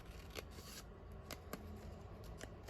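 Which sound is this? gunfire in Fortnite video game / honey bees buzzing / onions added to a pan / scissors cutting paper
scissors cutting paper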